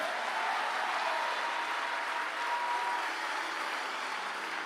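A church congregation applauds the Lord, a broad, steady wash of clapping from many hands that holds at an even, moderate level throughout without pause.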